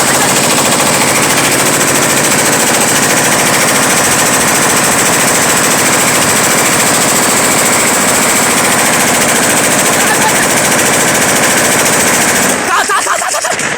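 Heavy sustained gunfire from sniper rifles and machine guns in combat, loud and continuous, with dense rapid bursts that stop abruptly near the end, while voices shout under the din.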